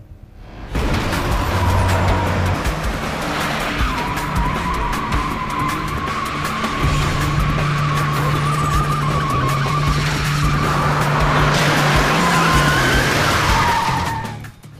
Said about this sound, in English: to make them slide, to do a U-turn very fast, 180 degrees U-turn.